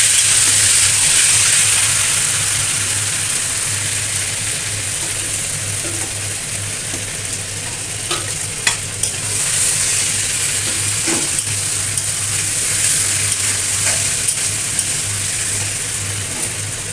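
Spice-marinated chicken fries in hot oil in a kadai, a loud, continuous sizzle and hiss up close with a low steady hum beneath and occasional spatters and stirring clinks.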